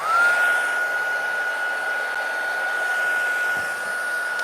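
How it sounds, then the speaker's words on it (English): Heat tool blowing steadily to dry ink on a holiday gingerbread craft project, a close, constant airy whoosh with a thin high whine running unchanged throughout. "I'm going to heat set this to make sure this ink is dry."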